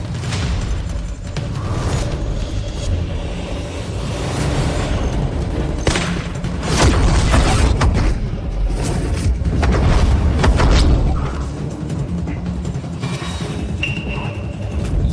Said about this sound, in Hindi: ये सोनिक बूम है।